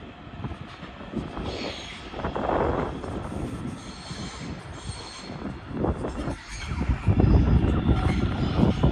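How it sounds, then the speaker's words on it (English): Trains run past near the Tivoli Hotel & Congress Centre in Copenhagen, their wheels squealing and grinding on the rails with a rumble that swells toward the end. "There's the trains in action."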